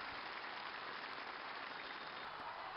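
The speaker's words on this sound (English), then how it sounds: "A big applause for this holy visit that we have." Steady, dense applause fills a prison hall during Pope Francis's visit to a Bolivian prison, a continuous wash of many hands clapping at even loudness with no pauses.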